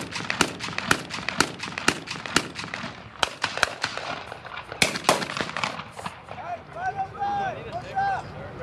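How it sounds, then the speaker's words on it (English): Staccato reports of machine gun and rifle fire at a D-Day battle reenactment in Muskegon, sharp bursts repeating through the first half then thinning out, with a voice talking underneath. "hear the machine gun in there."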